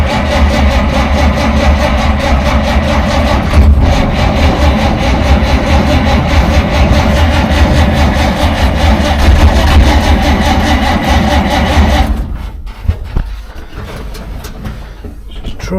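A car engine runs steadily after its choke has been manually adjusted, a loud continuous low rumble that cuts off abruptly near the end, leaving quieter irregular noise.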